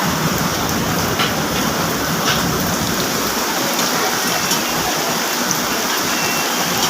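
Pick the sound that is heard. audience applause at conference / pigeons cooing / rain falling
rain falling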